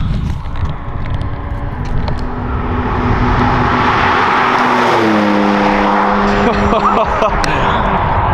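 Porsche GT4 RS sports car on a circuit warm-up lap, its engine droning steadily and close, with pitch shifts as it changes gear partway through and a speaking voice over it.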